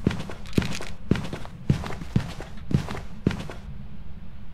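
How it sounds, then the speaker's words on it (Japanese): Heavy, evenly spaced footsteps from the ghost-hunting game Phasmophobia, about six thudding steps close by that stop near the end, leaving faint room hiss. "足音でかいね。"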